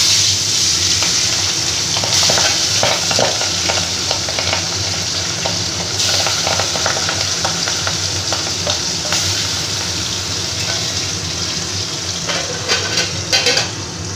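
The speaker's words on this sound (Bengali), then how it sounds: "দেখো আস্তে আস্তে এবার আমি মাছগুলোকে ভেজে নেব।" Pabda fish frying in mustard oil in a pan, a loud continuous sizzle up close with scattered spatters and occasional stirring clinks throughout.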